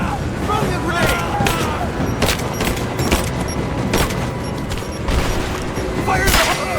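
Gunfight in Rise of the Tomb Raider with repeated sharp gunshots and booming impacts, including a grenade blast, firing in loud bursts across the whole stretch, with voices shouting in between.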